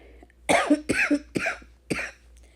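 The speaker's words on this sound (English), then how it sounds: "I was coughing, but not as bad as I normally do." A person coughs four times in quick succession, sharp close bursts separated by brief pauses in an otherwise quiet room.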